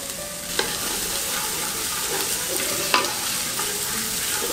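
Courgettes added to peppers frying in a pan for ratatouille, a steady close sizzle with scraping stirs and a few soft clacks of the spoon against the pan.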